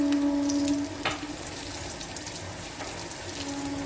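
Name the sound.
frying egg curry ingredients in a pan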